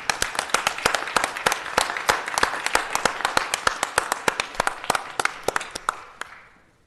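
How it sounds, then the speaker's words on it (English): Applause in a city council chamber: a small group clapping steadily in close, distinct, evenly paced claps, holding for several seconds before tapering off at the end. "Another round of applause for"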